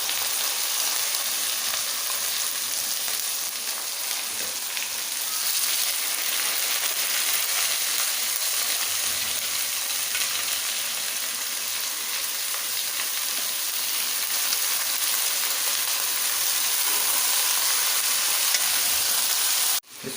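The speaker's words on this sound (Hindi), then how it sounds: "लहसुन और प्याज हमारा फ्राई हो गया, इसमें शामिल करते हैं मटन को।" Mutton sizzles and fries in a pot with garlic and onion, a steady, loud, close sizzle running unbroken throughout with faint stirring, for a Kabuli pulao.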